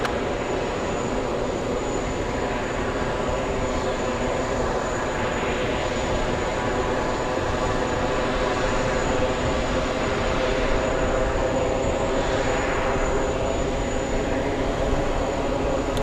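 A Manchester flight taxis at JFK airport with a steady, droning jet engine whine that stays constant and moderately distant throughout.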